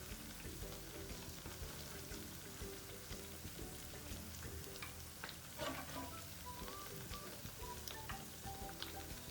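Pakoda fritters frying in batter over a medium flame, a dense continuous crackling sizzle of hot oil like steady rain, close and even, with occasional sharper pops and faint clinks.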